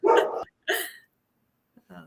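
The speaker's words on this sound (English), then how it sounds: "That's the first dog that's ever barked on the show." A single dog barks a few times indoors in short, loud bursts, then goes quiet before a fainter yip at the end.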